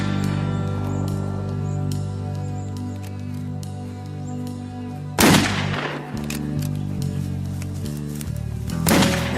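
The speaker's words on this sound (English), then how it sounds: "Just had a report of gunshots in the paddocks" Two sharp gunshots ring out several seconds apart in rural paddocks beside a chicken farm, each a sudden loud crack over sustained droning tones.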